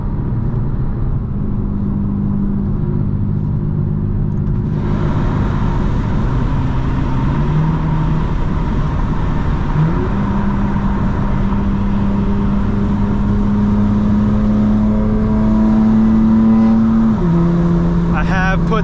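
A 2025 BMW M4 Competition xDrive, heard from inside, accelerates hard. A loud, steady engine drone climbs in pitch through successive gears, with brief drops at each shift and a rising roar toward the end.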